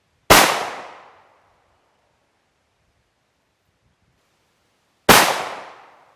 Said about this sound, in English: We've got our SSG 82 and Deacon's gonna fire 2 rounds at the lower left hand corner of this